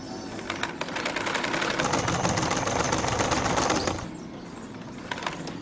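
A bike engine spinning a car alternator runs as a fast, even buzzing rattle for a few seconds, then cuts to a quieter idle with faint ticks.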